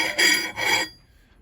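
Axe edge being filed with a finer grind, two long, close, rasping strokes of metal on steel, then quiet.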